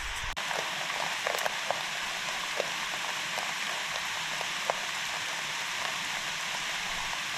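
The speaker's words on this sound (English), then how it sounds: "Well, we definitely need rain." Steady rain patters on a tarp stretched over a lakeside campsite in the Adirondacks, a dense continuous hiss with scattered sharper drops landing close by, no voices over it.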